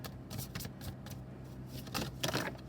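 Conversation cards are shuffled by hand close up, a rapid, soft riffling and flicking in several bursts with no talk over it.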